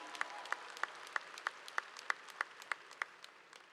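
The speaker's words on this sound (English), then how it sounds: "Clap for them, please, the folks who spoke right before me." An audience at a Virginia State University spring commencement ceremony claps in slow, even unison for the previous speakers, about a dozen sharp beats fading out at the end, fairly faint and distant over a light crowd hush.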